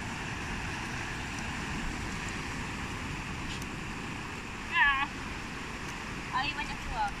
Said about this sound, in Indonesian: Ombak datang.